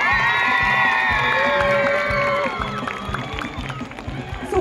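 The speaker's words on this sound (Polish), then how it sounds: "Ja chcę usłyszeć dla nich gromkie brawa." A festival crowd at Dni Jasienia 2014 cheers and shouts over pulsing music, sustained and fairly loud, easing slightly toward the end.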